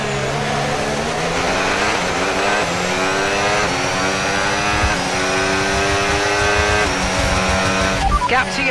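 F1 race cars in the F1 26 video game accelerating away as the safety car pulls in, with several rising engine whines layered over one another and a voice commenting over them.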